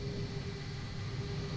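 Airbus A330 engines in Microsoft Flight Simulator 2020 produce a steady, continuous broadband roar with a low rumble underneath, moderately loud and unbroken throughout, with no voices.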